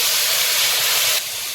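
Water poured into a hot pan of fish curry with tomato hisses and steams loudly and close, a dense continuous sizzle that drops off sharply near the end.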